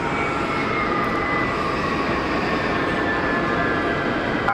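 An old airplane taxiing at Geneva Airport gives off a loud, steady engine roar with a faint whine, continuous and unchanging throughout, with no voices.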